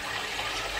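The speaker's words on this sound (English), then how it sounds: "I then just add some cold water into the pan, to the vegetables, as so." Cold water pouring into a pan of vegetables, a steady broadband rushing splash that stays even and close throughout, with no talking.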